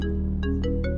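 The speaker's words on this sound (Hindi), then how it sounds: "अरे भाई फोन आ रहा है तेरी लव का" Phone ringtone for an incoming call, a bright electronic melody of short repeating tones, loud and close, heard alone.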